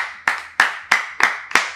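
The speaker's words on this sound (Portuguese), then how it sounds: "Não, uma salva de palmas." A single person claps five times at an even pace of roughly three claps per second. Each clap is sharp, loud and close, with a brief ring after it in a quiet room.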